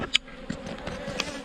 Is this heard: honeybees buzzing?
yes